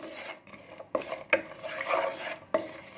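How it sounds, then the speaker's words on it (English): Raisins and cashews fry in ghee in a pot for semiya payasam, stirred with a spoon that scrapes and knocks against the metal in a few distinct clinks over a soft sizzle. "You just want to fry the raisins and the cashews."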